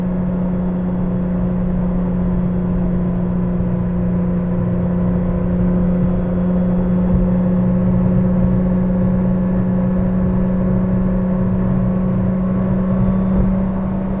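A 1983 Porsche 911 with the 3.2 engine pulls steadily at half throttle, climbing uphill in fifth gear toward 80, producing a loud, continuous in-cabin drone with a steady low hum and no talking.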